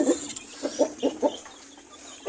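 Several backyard farm chickens cluck in a quick run of short rhythmic calls, fairly close and moderately loud over quiet surroundings.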